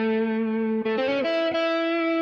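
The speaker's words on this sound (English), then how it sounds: "I'll add more reverb" A blues track plays with heavy added reverb, a sustained distorted tone stepping through a few held notes with a smeared, lingering tail.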